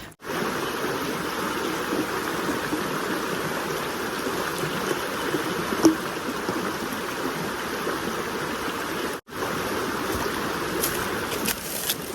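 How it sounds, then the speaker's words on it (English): A creek flowing down toward falls along the Appalachian Trail rushes steadily and evenly, close and fairly loud, with no voices over the constant water noise. "that doesn't mean I can't still enjoy the creek that goes down to the falls"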